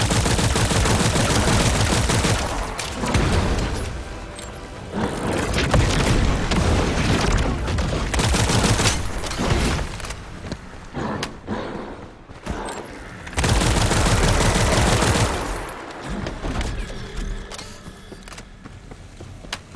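Gunfire from a weapon in The First Descendant, loud sustained bursts of rapid shots with heavy booms, broken by short pauses across the whole stretch.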